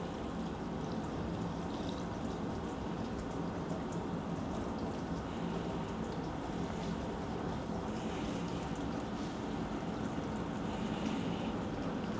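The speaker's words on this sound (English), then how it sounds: "So we pour everything." Eight liters of 1 molar acid poured outdoors during a chitin extraction from crab shells, a continuous rushing, splashing pour of liquid, steady and moderately loud throughout.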